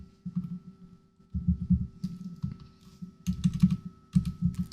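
Computer keyboard typing in short bursts of quick, close keystrokes separated by brief pauses, with a faint steady hum underneath and no voices.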